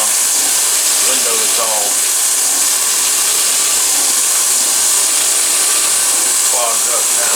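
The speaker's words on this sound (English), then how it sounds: "I'm just doing a boring operation here for some M4 screws that are going to hold the bearing cover on." A milling machine bores holes for M4 screws in a bearing block, giving a steady, loud broadband whir that runs throughout, with brief speech over it.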